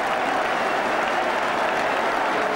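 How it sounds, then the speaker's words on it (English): Broad, sustained crowd applause rolls around Highbury stadium during a 1982 Arsenal v Ipswich football match, loud and even from start to end with no voices over it. "great applause all around Highbury."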